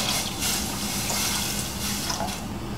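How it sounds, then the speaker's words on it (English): Organic milk is poured into masala chai as a continuous close liquid rush and splash with no break, lasting under three seconds, with no talking. "Now we're going to add 1 cup of milk, and I always use organic milk"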